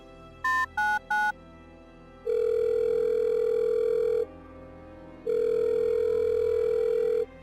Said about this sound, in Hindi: अपना फ़ोन निकाला और इमरजेंसी नंबर डायल किया